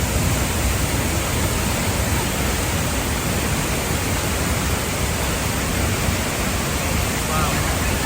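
An unbroken broadband roar of water pours down at Tegenungan waterfall in Bali, loud and even from start to finish, with no clear voices above the noise.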